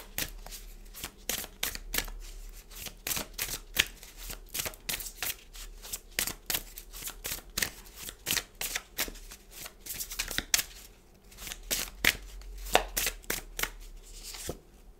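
Tarot cards are shuffled by hand in quick, crisp riffles and slaps, a dense run of sharp card flicks repeating steadily throughout, close and clear with no voice over them.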